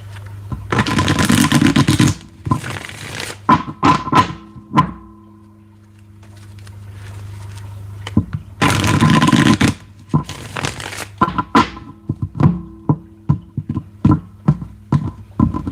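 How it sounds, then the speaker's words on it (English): Tarot cards are shuffled in repeated bursts, loud close riffling and slapping sounds in two main bouts separated by a quiet pause, with sharp taps of the deck between. "Make sure it's nice and shuffled."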